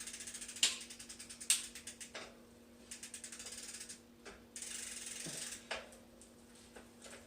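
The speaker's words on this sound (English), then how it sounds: "So that second gear does not want to get into it. It just wants to skip right to the next." A bicycle drivetrain clicks and ratchets as the chain skips past a gear while shifting, with repeated quick clicks and a few louder clacks, close up and quiet.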